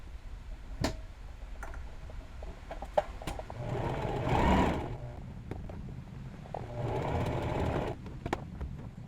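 A sewing machine runs along a fabric seam in two short bursts of low, steady whirring. Scattered ticks and clicks from handling the cloth come before and between the bursts.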